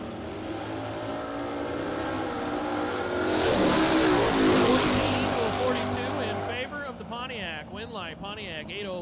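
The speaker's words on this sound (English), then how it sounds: "John Singleton in the Dodge is locked out on the starting line" A Dodge and a Pontiac drag racing car idle and rumble loudly at the starting line, engines swelling and revving, while an announcer talks over the steady roar.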